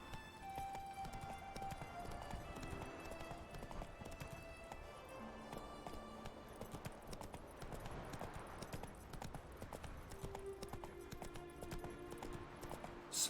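Roach, the horse in The Witcher 3, gallops with fast, even clip-clop hoofbeats that continue steadily throughout, faint and alone beneath the game's ambient sound.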